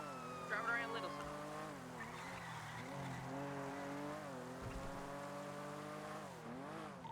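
A car driving around in GTA RP on NoPixel, a steady engine drone rising and falling in pitch as the car accelerates and shifts, with a brief tire squeal near the start, fairly faint and under occasional talk.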